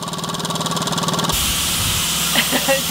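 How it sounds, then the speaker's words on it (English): Steam hisses steadily beside a ticking diesel engine during fuel testing on a 2-ton truck, first over a pulsing idle rhythm and then as a broad, loud hiss, with brief speech near the end. "you can sort of see that steam really clearly coming off"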